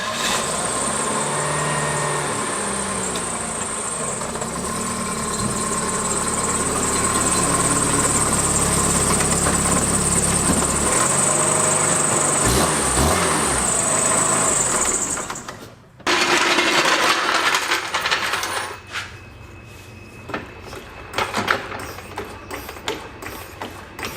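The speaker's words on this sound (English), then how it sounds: "You can hear just kind of a nasty grinding sound and vibration" A 1990 Dodge Omni with a bad wheel bearing gives a steady mechanical drone with a harsh grinding whir and vibration, loud and continuous, cutting out briefly before a rougher, clattering stretch resumes.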